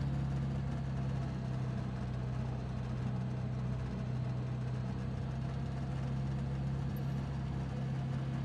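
A seaplane's Rotax engine in Microsoft Flight Simulator 2020, throttled to 2000 RPM, drones steadily and evenly with a low, constant hum throughout.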